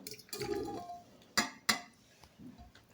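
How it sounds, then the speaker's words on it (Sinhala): Pineapple pieces drop into a glass bowl for a fruit salad. A soft tumble of fruit is followed by two sharp, close clinks against the glass, then quiet handling. "මම ඉස්සෙල්ලාම මේකට අන්නාසි ටික කොහොම දාගන්නවා"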